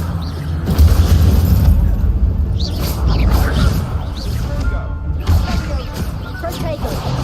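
The Incendio fire spell from the Hogwarts video game goes off as a loud, low rumbling boom with crackling bursts and whooshes. A voice speaks over the din.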